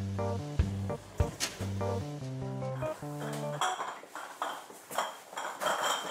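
Returnable glass kefir bottles clink and knock against each other while being washed by hand, with ringing glassy pings in an irregular series of clatters and water splashing, heard close with no talk.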